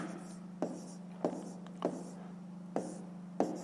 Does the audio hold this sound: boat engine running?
no